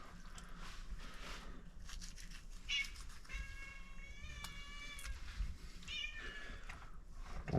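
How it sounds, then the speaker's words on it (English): A hungry house cat meows several times in a kitchen while a turkey is prepared for smoking, a few clear drawn-out cries spaced over the clip, close and fairly soft, amid quiet handling noises. "Don't mind the cat."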